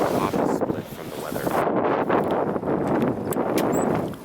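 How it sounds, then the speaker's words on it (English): Gusty wind buffets the microphone outdoors in a parking lot beside a 1976 Cadillac Seville, a steady broadband roar with rising and falling surges that persists throughout. "Okay, it's getting windy."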